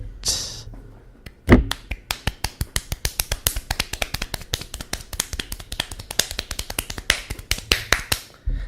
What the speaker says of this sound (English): That was about 14 claps a second.